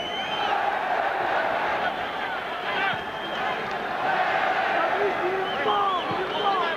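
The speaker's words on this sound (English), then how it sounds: "It sounds almost like a bullfight now, with the crowd cheering every move of Tiozzo, and the decibel level getting higher." A boxing arena crowd at a 1995 fight cheers in a dense, sustained roar that swells and stays loud throughout, with scattered whoops.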